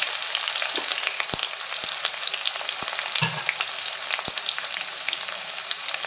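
Onion paste, curry leaves, cloves and cardamom fry in hot oil for a dry prawn fry, giving a steady close sizzle with a few sharp crackles and pops throughout.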